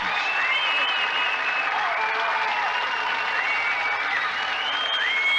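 A 1979 British strongest man contest crowd applauding a lift of just under a ton, steady loud clapping and cheering that fills the whole stretch without a break.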